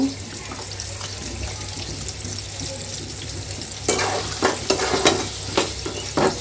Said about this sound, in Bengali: এভাবে আমি এটাকে কষিয়ে মাছের তেলের সাথে করলা কষিয়ে কষিয়ে রান্না করবো